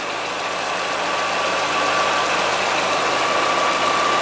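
An Audi A3 1.8 20v AGN engine from 2006 idles with the air conditioning running, a steady even hum with a faint whine that stays constant and close, with no talking.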